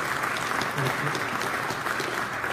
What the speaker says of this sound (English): I think we should applaud the minister.